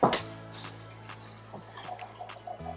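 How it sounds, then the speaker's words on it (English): Cold water from the fridge, about four cups, is poured into a French press: a short splashing burst at the start, then quieter drips and trickles. "we're going to put about 4 cups of water in the French press"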